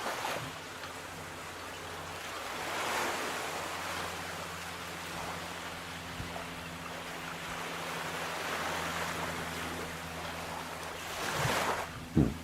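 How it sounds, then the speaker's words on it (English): Water laps against the quay at the Port of Southampton, picked up by a harbourside webcam as cruise ships depart. A steady soft wash runs throughout over a low mechanical hum, with a louder splash near the end. "It's got the lapping water."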